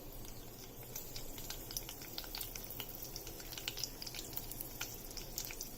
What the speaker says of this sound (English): Once it starts spluttering, just give it a stir.